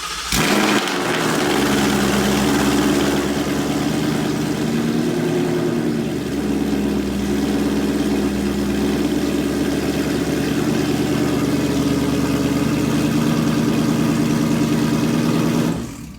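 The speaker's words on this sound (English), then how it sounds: "First cold start in the garage." A 2018-2021 Ford Mustang GT with a Corsa active exhaust cold-starts in a garage, catching with a sharp crank, then settling into a loud, deep, steady idle that rumbles on until the end.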